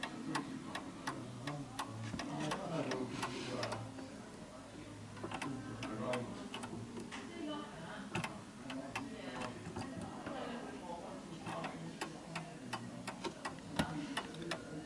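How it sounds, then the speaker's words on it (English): A German Napoleon hat mantel clock with Westminster chime, marked Anvil, made in Baden, ticks in a steady, even rhythm, close and fairly faint, while a person talks quietly now and then over the ticking. "this clock is making a perfect tick-tock."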